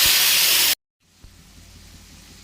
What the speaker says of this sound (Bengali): এরপরে ম্যারিনেট করা মাছটা এটাতে দিয়ে দিচ্ছি।